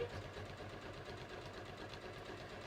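A sewing machine stitching fabric for button sewing on a pair of shorts, a quiet, steady rapid mechanical whir and knock that runs continuously at low volume, with no voices.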